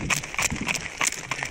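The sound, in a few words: horse hooves running on ground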